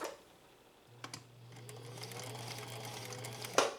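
A sewing machine stitches fabric in one steady, close run of rapid mechanical clatter lasting a few seconds, ending with a sharp clack.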